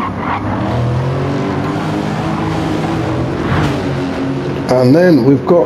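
A pack of race cars on the Deep Forest circuit in Gran Turismo 7 roars past in a loud, continuous engine drone with a tire squeal near the end, under a commentator's voice.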